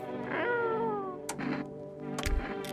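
A cat in the video game No I'm Not a Human meows loudly and plaintively, one long drawn-out call followed by shorter ones, with a few sharp clicks between them.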